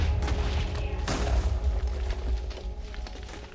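Blocky TNT blast in Minecraft PlayStation 4 Edition, a deep booming rumble that swells around the one-second mark and rolls on continuously without pauses, loud and close with layered crumbling debris.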